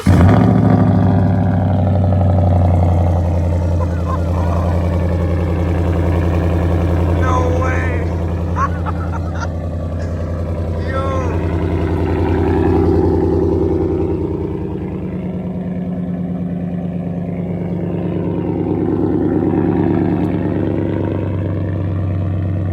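Deep, steady rumble from a 2017 Ford F150 with a 5.0 V8 and Corsa Pro Series exhaust, swelling and easing in slow revs close by, with voices talking over parts of it.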